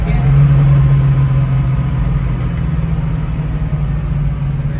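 A 1968 Shelby GT500KR with a four-speed manual downshifts to second gear, its engine giving a loud, steady low rumble close by with little change across the moment.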